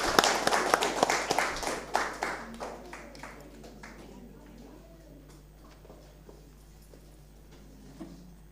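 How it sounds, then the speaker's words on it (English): Applause from an audience at a songwriting summer camp certificate ceremony, a burst of claps that fades over several seconds, with voices talking underneath as it dies away. "Give her a round of applause"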